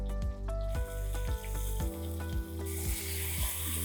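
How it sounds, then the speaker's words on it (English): Meat searing in a hot pan gives a steady sizzling hiss, turned to brown each side evenly, with a regular low thumping pulse and sustained tones running underneath throughout. "we're just gonna move it around to each one of the sides to sear in the juices"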